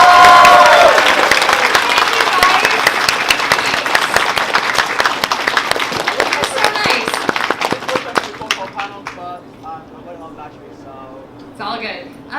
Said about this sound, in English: can I have a massive round of applause for Caitlin Glass, please?